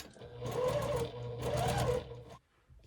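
Sewing machine running a quarter-inch quilting seam on a flying geese block, two close steady whirring bursts with a brief slowdown between them, stopping into quiet near the end.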